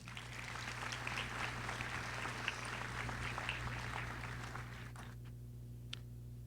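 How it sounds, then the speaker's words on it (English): Applause at a school graduation ceremony honoring board members, a soft, distant, steady patter of clapping over a constant low hum, thinning out near the end. "Please join me in applauding their leadership and their devotion."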